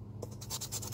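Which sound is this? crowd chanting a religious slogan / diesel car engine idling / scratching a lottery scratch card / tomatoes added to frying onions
scratching a lottery scratch card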